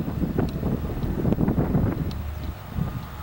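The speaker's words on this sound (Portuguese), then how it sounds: "esse vento tão lindo que está passando aqui agora" Wind blowing steadily outdoors, a broad rushing and buffeting roar that stays loud throughout and eases slightly near the end.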